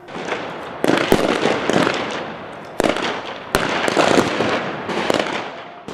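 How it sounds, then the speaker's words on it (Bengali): Rapid, dense bursts of gunfire crackle and pop continuously, with several sharper loud cracks standing out over the barrage, as soldiers exchange fire with hostage-holding militants at a stadium. "জঙ্গি গ্রুপের সঙ্গে বৃষ্টির মতো গুলি বিনিময়ের মধ্যেই"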